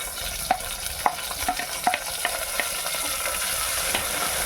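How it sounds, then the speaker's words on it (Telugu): Tomato pieces fry with onions in a pan for a tamarind-leaf dried fish curry, a continuous close sizzle broken by several sharp spoon scrapes and taps in the first two seconds, then steady frying alone. "ఉల్లిపాయ ముక్కలతో పాటు టమాటా ముక్కలు కూడా బాగా ఫ్రై అవ్వనివ్వాలి"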